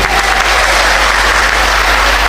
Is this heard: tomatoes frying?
no